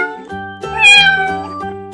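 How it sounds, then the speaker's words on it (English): A cat meows in a 3D animal video game, one drawn-out, close, clear meow rising and falling with no talk around it. "Cat"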